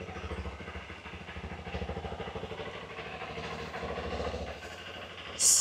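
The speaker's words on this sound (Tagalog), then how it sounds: "Actually, maganda din yung tunog ng tambutso nito" A Honda CRF150L motorcycle idles with its stock exhaust, giving a steady low, pulsing chug that stays fairly close and even, ending with a brief sharp noise.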